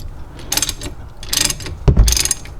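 A ratchet tightening a 15mm bolt on a 2005 Buick LeSabre front brake caliper, three close, crisp bursts of rapid clicking separated by short pauses, with a light knock near the end.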